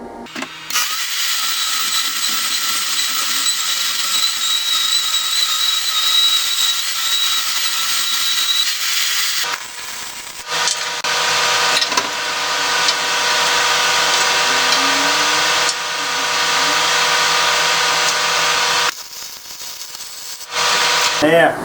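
A power tool cuts a steel pipe during a DIY flux-core welding build of a fire pit. It gives a loud, sustained, harsh whine that runs almost nonstop, with brief dips where the blade eases off before it bites again.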